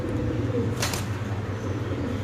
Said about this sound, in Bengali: এটা হলো একটা মাদি মাদি কবুতর